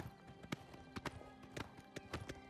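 Horse hooves clip-clopping on a road in the video game Oblivion, a steady run of sharp, evenly spaced hoofbeats close up over faint game ambience.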